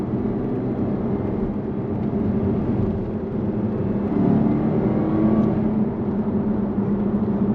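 A Jaguar XK 5.0 V8 in dynamic mode hums steadily from inside the car, swelling briefly louder around the middle as the throttle opens, with no talk.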